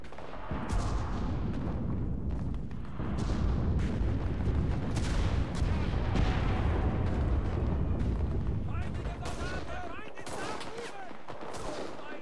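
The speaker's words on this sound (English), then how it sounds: "Artillery." Artillery fire and gunfire in the war video game Enlisted, dense and loud throughout with rolling booms and rapid shot bursts layered together, thinning briefly near the end.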